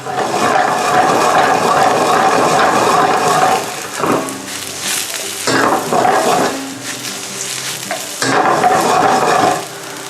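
Shiitake mushrooms and garlic stir-frying in oil over high heat, a loud close sizzle broken by scraping and tossing strokes that briefly drop the hiss before it surges back.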